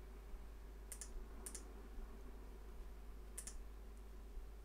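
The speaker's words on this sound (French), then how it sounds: "Donc là, on tape lettre par lettre" Letters typed one at a time on a computer keyboard while entering a web search: a few sparse, crisp key clicks spaced apart over a quiet background hum.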